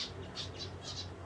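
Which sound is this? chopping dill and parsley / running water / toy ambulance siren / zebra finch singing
zebra finch singing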